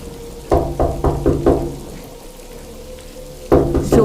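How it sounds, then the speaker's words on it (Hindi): Knocking sounds on a car window, loud sound effect: a quick series of four hard knocks, a pause, then two more. "जोर जोर से किसी के खटखटाने की आवाज़ आती है।"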